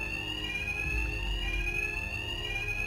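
A fire alarm rings inside the Batman Arkham Knight video game, a continuous high electronic tone that holds steady and loud over a low rumbling background.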